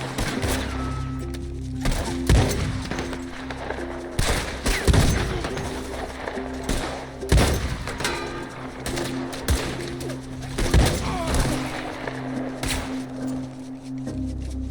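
Gunfire in the video game Red Dead Redemption 2 during a fight with the O'Driscoll gang: scattered loud shots and bursts crack out irregularly over a low ambient game hum, with no talking.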